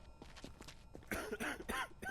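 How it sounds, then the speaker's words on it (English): A video game character coughs repeatedly in a harsh, rapid series, faint at first and then louder bursts of hacking coughs close up. "Stop coughing."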